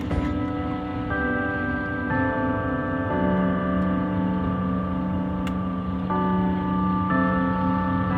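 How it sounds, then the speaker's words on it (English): Church bells in Mammoth, California ring in overlapping, sustained tones, new strikes arriving about once a second and blending into a rich, lingering chime. "The sound of the church bell gave such a beautiful conclusion to the trip."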